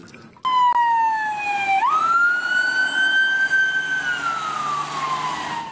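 A toy police siren wails loud and close, its pitch sweeping up sharply, then holding and slowly falling in a single electronic cycle.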